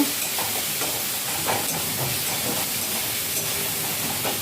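Fish frying in a pan gives a loud, continuous, dense hiss and sizzle, with small crackles and pops spread throughout.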